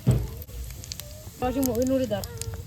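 Dried chili, bay leaf and whole cumin temper in hot oil with a soft, steady sizzle and crackle, while a voice talks over the frying partway through.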